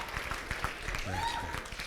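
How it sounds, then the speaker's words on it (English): Faint audience applause from a leadership talk, a soft patter of scattered clapping heard at a distance with a brief voice partway through. "you can clap."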